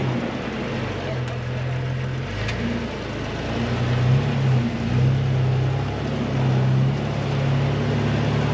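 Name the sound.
Jeep LJ engine revving off-road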